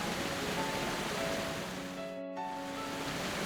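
Constant roar of a large, heavily visited Canadian waterfall, a dense steady wash of rushing water with no pauses, with a faint tonal hum drifting underneath.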